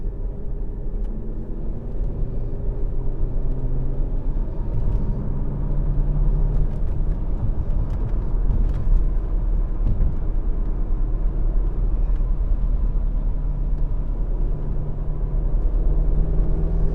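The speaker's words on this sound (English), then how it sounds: "Give me several gears. Give me all the gears." Mercedes W215/W220 car running with the engine droning steadily, a loud continuous low rumble from inside the car as it moves through gear changes, no voices.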